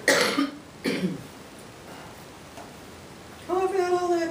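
Two short, harsh coughs close up, one right after the other, followed by a quiet pause and then a person starting to talk.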